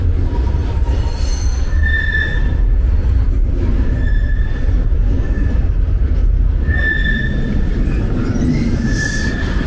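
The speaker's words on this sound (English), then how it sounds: "It's a little bit scary with the train." A train passes overhead on rails near the Yverdon-les-Bains railway station, heard from directly below: a loud, close, continuous rumble with repeated high-pitched wheel squeals.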